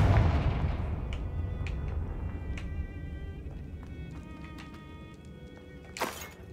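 A Confringo blasting spell explodes in the wizarding game Hogwarts Legacy, a heavy boom that rumbles and fades, followed by scattered crackles and a sharp burst near the end.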